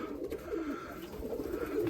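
Pigeons cooing in a breeding loft of fancy breeds, mirror pigeons and Chapashi among them, soft low murmuring coos repeating steadily close by, with no voices.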